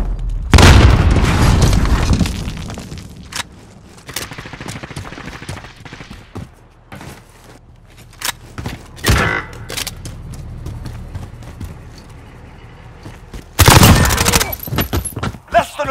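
A cruise missile launch and explosions in Call of Duty: Modern Warfare: heavy booming blasts and rattling gunfire open the clip, then quieter rumbling with scattered shots, and a second loud burst of explosions near the end.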